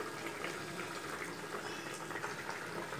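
Pomfret fish curry with fried potatoes added bubbles steadily in the pot, a soft, even boiling hiss that continues throughout with no voices.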